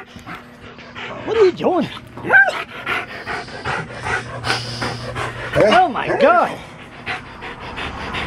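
A lively excited dog pants and whimpers close by in bursts, with high yips scattered through, while a person talks and exclaims loudly over it.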